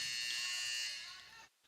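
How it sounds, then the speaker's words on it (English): A basketball shot clock buzzer at a women's college game sounds as a steady, shrill tone for about a second and a half, then stops abruptly, heard faintly from the broadcast. "Ignore the buzzer."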